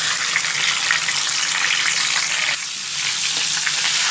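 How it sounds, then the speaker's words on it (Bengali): Catla fish heads rubbed with salt and turmeric fry in hot oil, producing a loud, dense, close sizzle that roars steadily and dips briefly before swelling again, with no speech. "এবার ভেজে নেব আমি মাথাগুলো দিয়ে দিচ্ছি।"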